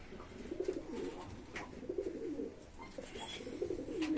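Pigeons in a coop cooing in a steady, overlapping low warble, close and continuous with soft rustling in the background.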